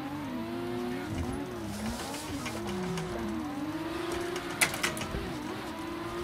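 A drift car in Assetto Corsa, driven at HT Drift Park, makes a wavering engine note that rises and falls steadily as the throttle comes on and off, with tyre squeal over it and a brief sharp transient near the end.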